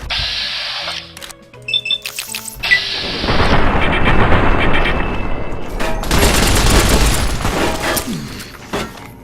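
A submachine gun in Fallout New Vegas fires in loud, ragged bursts: scattered sharp shots at first, then a long dense stretch of sustained rapid fire with impacts, a short lull, and another heavy burst, with no voices.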